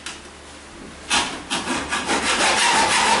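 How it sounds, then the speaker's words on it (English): A hand saw cuts notches into a wooden yardstick with a few quick, rasping back-and-forth strokes that grow steady and loud, heard close up and alone. "we've cut several notches out in our yardstick"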